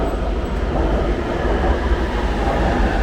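Inside a Nanjing subway train at night, a loud steady rumble of wheels on track with a constant roaring hiss and faint rhythmic clatter, continuous throughout with no talking.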